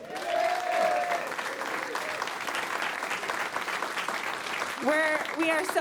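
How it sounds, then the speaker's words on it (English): An audience applauds the Denver radio station KUVO at a live album-release performance, a sustained wash of clapping, with a voice at the start and another voice breaking in near the end. "How about a round of applause for KUVO?"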